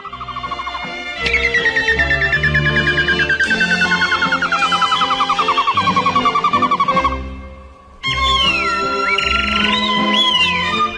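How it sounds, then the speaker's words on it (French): Songbirds in a garden, heard as a loud continuous mix of whistled calls and chirps, with a long descending warble, a short pause, then more bright tweeting. "De nombreux oiseaux visitent notre jardin pendant une certaine période de l'année."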